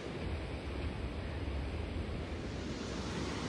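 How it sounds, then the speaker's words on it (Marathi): Water rushes steadily at a waterfall, a loud, continuous broadband roar that fills the whole stretch close to the microphone, with wind buffeting mixed in and no voices. "बघू शकता पाणी खतरनाक"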